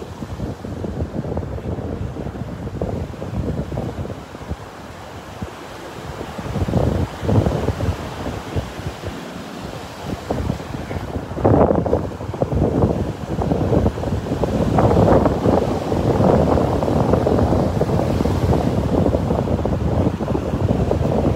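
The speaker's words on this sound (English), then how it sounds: "Ooh, that breeze is picking up here." Strong breeze buffets the microphone on a Gulf beach at Delnor-Wiggins while big surf roars and crashes close by, rising in several loud swells over a steady windy rush with no talking.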